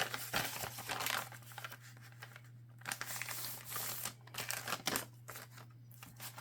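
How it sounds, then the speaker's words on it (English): Paper being cut with scissors for a bird journal, heard as close, irregular crinkling and snipping under a steady low hum, with scattered louder rustles throughout. "now we have to cut our paper more"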